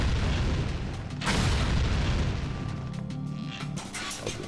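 Metal barrels blowing up in the video game Ninja Gaiden 2 Black: a deep booming blast with rumbling low-end debris, followed by a second burst and a sustained noisy roar with ringing tones.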